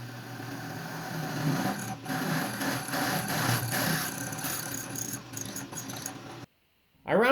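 A drill bores holes in metal tractor battery hold-down brackets, grinding steadily with a few brief breaks before cutting out near the end.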